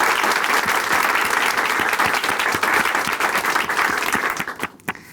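Sustained applause from a large church congregation, loud and steady, fading out into a few last scattered claps at the end.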